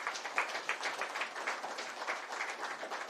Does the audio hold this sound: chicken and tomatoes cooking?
no